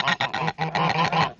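Geese honk in a quick run of about seven harsh, nasal calls in close succession, loud and near with short gaps between them.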